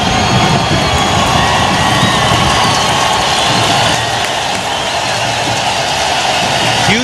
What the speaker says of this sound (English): Huge round of applause for Salvadorian goalkeeper Henry Hernandez.